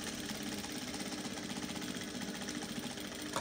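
A sewing machine runs steadily through a side dart on a wide-leg jumpsuit, a continuous fast mechanical chatter of stitching held at an even pace for the whole stretch, close by with no voices.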